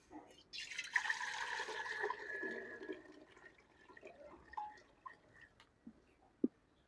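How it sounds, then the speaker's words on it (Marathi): A short gush of water poured into a cooking pot of rice over a wood-fired stove outdoors, then fading trickles and a few drips, quiet and close. "त्यात आता भरपूर असं पाणी ओतून घेणार आहे मी"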